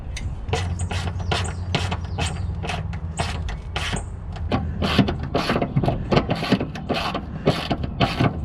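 Jack raising one side of a Jeep JK during a rear spacer install, with continuous close mechanical ratcheting and creaking clicks, a steady low hum, and clicks growing denser and sharper partway through.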